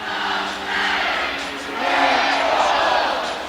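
A college basketball crowd at a Sun Belt men's championship quarterfinal between Marshall and Arkansas State cheers and roars, swelling and dipping in a dense, continuous wash of voices filling the arena.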